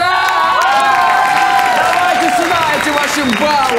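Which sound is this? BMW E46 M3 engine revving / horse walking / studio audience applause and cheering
studio audience applause and cheering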